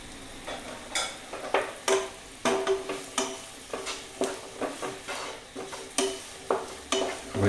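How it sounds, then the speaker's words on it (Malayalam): Young okra frying with onions in a pan, a soft continuous sizzle broken by regular scraping strokes of a spoon roughly twice a second, close and clear. "ഇനി ഇതിലേക്ക് നമ്മൾ വെണ്ടക്ക ഇടണം."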